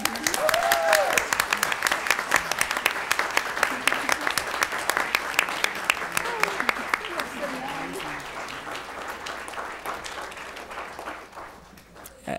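An audience claps at length for high school theater students being honored at a school board meeting, a dense, steady round of applause that starts loud and slowly thins and fades toward the end, with faint voices underneath.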